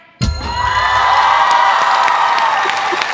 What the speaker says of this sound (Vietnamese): Khán giả vỗ tay là đúng rồi.